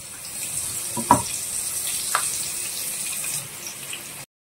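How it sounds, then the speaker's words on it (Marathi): Green chillies fry in hot oil with a steady, quiet bubbling sizzle and a couple of brief louder pops and crackles, then the sound cuts off abruptly. "हिरव्या मिरच्या अशा प्रकारे कट करायच्या आहेत आणि तळून घ्यायच्या आहेत"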